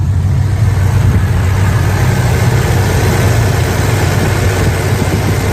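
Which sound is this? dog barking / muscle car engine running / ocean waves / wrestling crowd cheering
muscle car engine running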